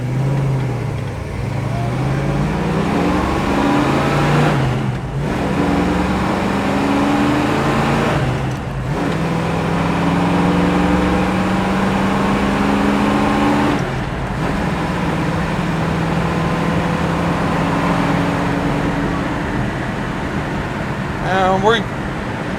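A 1967 Ford Mustang Fastback runs on the road, its engine droning and rising through gear changes with repeated climbs in pitch, steady and close, while someone talks over it.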